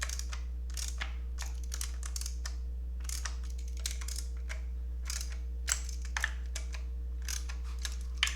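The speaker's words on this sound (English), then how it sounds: "I'm going to go back to my 1/4-inch ratchet with my E8" A 1/4-inch ratchet clicks in quick, repeated bursts while snugging spark plug coil bolts on a Mercedes SLK engine, close and fairly quiet over a steady low hum.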